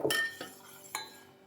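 Wet rice flour dough being stirred into syrup in a pot for arisalu, with a few sharp metallic clinks of a utensil against the pot rim. The clinks are close and spaced out, and the pot is otherwise quiet.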